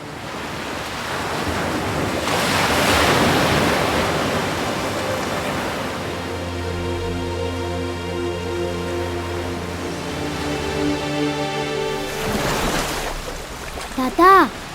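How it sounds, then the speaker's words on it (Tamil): Sea waves wash steadily onto a large shore, a continuous loud roar of surf with wind, one swell building early and another breaking near the end, accompanied by a sustained musical tone. "எவ்வளோ பெரிய கடல்."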